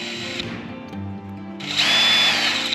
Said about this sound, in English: we're going to have to use a way too big a screwdriver